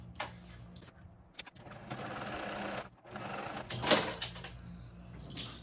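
A sewing machine stitches a backpack piece in short, fairly quiet bursts separated by pauses, close by and with no talk over it.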